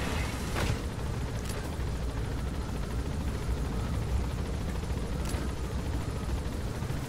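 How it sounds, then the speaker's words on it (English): A helicopter in Metal Gear Solid V: The Phantom Pain gives off a steady, loud low rotor drone throughout, with a few brief, sharper game sounds rising over it. "How do they not just hear our helicopter right now from that distance?"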